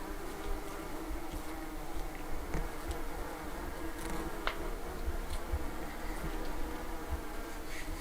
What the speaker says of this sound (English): The bees are still here, out in force, if you can hear them.